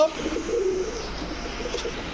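Pakistani high-flyer and racer pigeons coo softly in low, repeated rolling notes over a steady background hum, with no talking.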